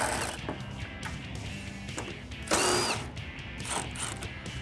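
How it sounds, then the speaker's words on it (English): A ratchet with a 10mm socket on an extension works loose the headlight bolts on a 2015-2017 Ford Mustang, giving fast clicking bursts at close range with a louder stretch partway through and no talk. "So grab your 10mm socket. I like to use an extension just to get past this headlight here,"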